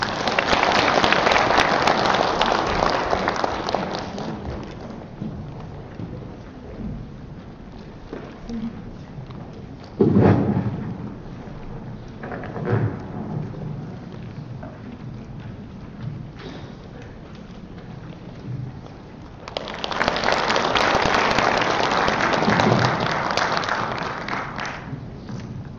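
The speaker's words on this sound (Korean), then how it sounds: "박수로 모시겠습니다." Conference attendees at an international Buddhist academic symposium's opening ceremony applaud warmly for a keynote speaker, the clapping fading into quieter shuffling and a brief voice before a second round of applause swells near the end.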